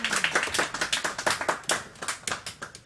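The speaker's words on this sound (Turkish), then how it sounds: "Orada İleriden bir alkış mı geldi?" Scattered hand clapping from a neighbouring house during a home concert, a rapid, steady run of claps somewhat distant, with no talk over it.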